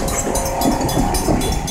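The Napa Valley Wine Train rolls past at close range, a loud steady rumble of wheels and cars with rhythmic rail clatter throughout.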